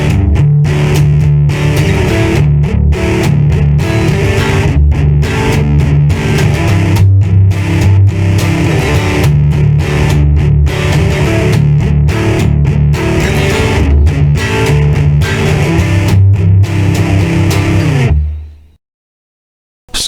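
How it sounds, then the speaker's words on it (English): Electric guitar run through a Zoom G1 Four multi-effects pedal on a heavy distortion setting, playing loud, chugging chords and riffs with short rhythmic gaps, then cutting off abruptly near the end. "And a pretty heavy distortion."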